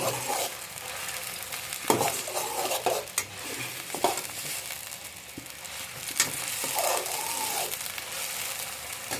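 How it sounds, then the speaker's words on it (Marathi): Chopped onion fries in oil for Chinese-style Maggi noodles, a steady close sizzle broken by irregular scrapes and knocks of a spoon stirring against the pan. "ओके कांदा ॲड करून घेतलेला आहे पहिला तर घेऊया कांदा भाजून"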